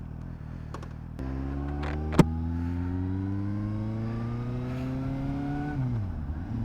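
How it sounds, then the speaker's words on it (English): A 2012 Suzuki GSR750A motorcycle engine is heard while riding, close and steady, its pitch climbing smoothly through the gears as the bike accelerates, then briefly dropping near the end. "Let's get on the bike again."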